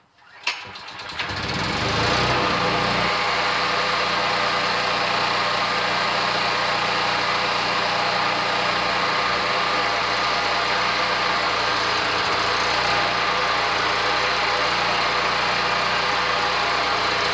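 A Predator 8750 gasoline generator starts after a brief crank and settles into a steady, loud running drone with a constant low hum, alone without talk.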